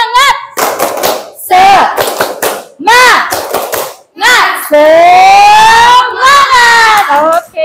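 A school class does a rhythmic spirit clap, with sharp clusters of hand claps alternating with children's chanted and shouted voices, loud and close.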